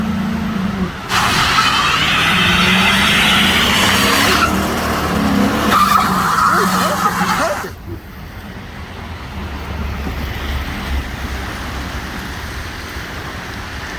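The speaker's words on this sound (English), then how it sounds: "Much better reverse burnouts." A GMC Sierra pickup spins its tires in reverse, a loud sustained tire squeal and engine roar lasting several seconds before cutting off into a lower rumbling hiss outdoors.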